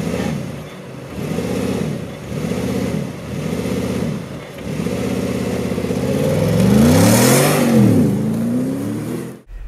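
A 2018 Mercedes G500 driving off-road in Záhorie, its engine loud and close, pulsing in repeated rev swells before climbing into a stronger, rising rev near the end, with no voices.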